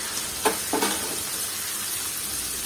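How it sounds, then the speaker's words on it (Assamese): Chicken pieces frying in oil with Kashmiri chilli powder and spices, cooking down for a chicken pickle, give a steady soft sizzle with a couple of brief stirring scrapes near the start, and no voices. "ভালকৈ ভাজি"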